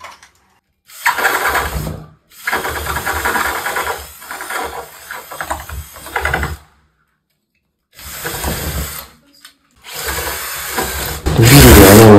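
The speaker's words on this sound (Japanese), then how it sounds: "ドリルで穴を開けてくれてるみたいです。" A drill boring into a door lock, running in several loud grinding bursts separated by short pauses, with a rougher, rattling surge near the end.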